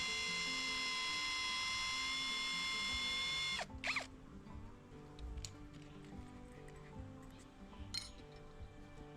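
A drill bores pilot holes for mounting bike-tyre wall art, giving a steady high whine for several seconds before stopping abruptly. Brief clinks and handling knocks follow.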